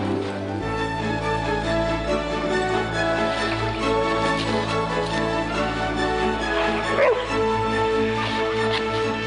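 Indoor hunting dogs kept in a small apartment, barking, yipping and whimpering repeatedly, close and fairly loud, with a voice audible in the background.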